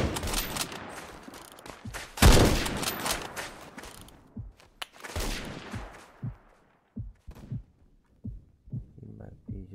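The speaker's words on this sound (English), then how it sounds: "There's some shots coming from behind." Bursts of rapid gunfire rattle in the Phantom Forces shooter game, dense and loud at first, then thinning into scattered single shots and footstep-like thuds, with a voice talking over parts of it.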